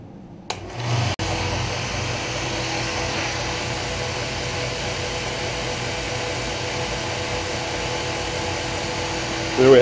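A 2x72 belt grinder switches on with a click and then runs at a steady, even whirring drone, loud and close, without pause until the end.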